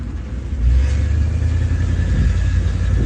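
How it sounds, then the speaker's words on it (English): A pickup truck passes as a played-back recording, a loud steady low engine rumble that swells early and then holds through the rest of the moment, with no talk. "That is a pickup truck."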